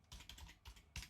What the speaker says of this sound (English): I can now type